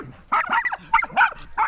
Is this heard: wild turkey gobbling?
no